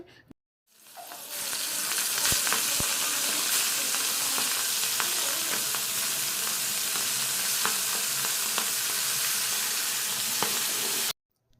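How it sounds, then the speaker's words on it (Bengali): Pomfret fish frying in a wok gives a steady, loud, close sizzle that holds evenly for about ten seconds, with a few faint clicks over the hiss and no talking. "ওইদিকে পমফ্রেট মাছগুলো ভেজে নিচ্ছিলাম"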